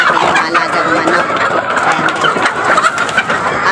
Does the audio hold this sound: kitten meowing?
no